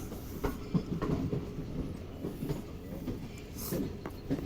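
Karakoram Express rolling into a platform on a foggy winter morning, a steady low rumble and clatter of railcars passing close by, continuous at moderate volume throughout.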